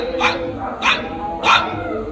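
A voice imitates a small puppy in a dog fight, giving three short, high yapping barks evenly spaced, close and clear.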